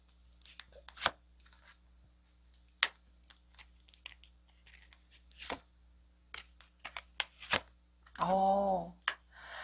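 Tarot cards are shuffled and drawn in a quiet room: scattered soft taps and flicks, a few sharper card snaps, then a brief dense riffle near the end, with no talking.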